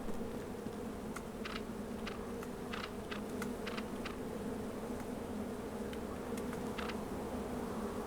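Bees buzz steadily around a beehive in H1Z1 Just Survive, a continuous faint droning hum with scattered small clicks throughout.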